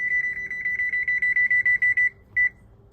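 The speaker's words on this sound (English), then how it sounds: "So I'm gonna set a timer for that now" A rapid run of high-pitched electronic beeps from a kitchen timer, steady and evenly spaced, then a brief pause and one final beep, fairly close.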